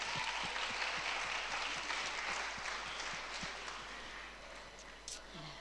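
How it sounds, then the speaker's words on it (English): An audience at a Beirut tech conference talk gives sustained applause, a broad wash of clapping that stays steady and slowly fades over several seconds. "I think they deserve another round of applause"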